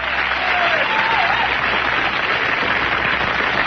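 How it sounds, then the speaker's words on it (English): Sustained applause fills a studio audience, a dense even wash of many hands clapping at once, steady and fairly loud throughout with no pause or speech. "A lot of applause for everything he says."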